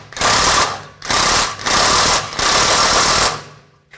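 A swivel socket turns the front lower ball joint nut on a 2006-10 Volkswagen Jetta, making four loud, close bursts of rattling, whirring mechanical noise separated by short pauses.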